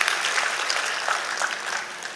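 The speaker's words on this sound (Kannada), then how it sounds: "ದಯಮಾಡಿ ಜೋರಾದ ಒಂದು ಚಪ್ಪಾಳೆಯೊಂದಿಗೆ ಅವರಿಗೆ ನಾವು ಅಭಿನಂದನೆಯನ್ನು ಸಲ್ಲಿಸೋಣ" An audience claps loudly and steadily to honour a guest at a charitable trust's aid-distribution ceremony. The dense, even clapping fills the whole stretch with no voices over it.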